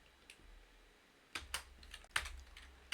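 Quiet clicks of fingers typing on a well-worn computer keyboard, a few scattered keystrokes followed by a short flurry of sharper taps, close by in a hushed room.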